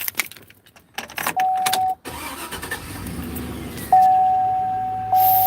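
An old car engine cranks and starts, a brief cranking burst followed by the motor catching and settling into a steady idle with a faint whine, close by and without talk.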